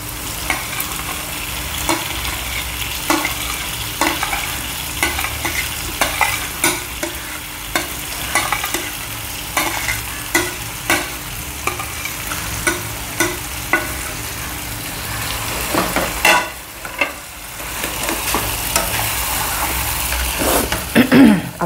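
A mixture tipped into frying onions for baingan bharta sizzles loudly and steadily, punctuated by repeated scraping stirs of a spoon against the pan, with a brief lull before the sizzle resumes.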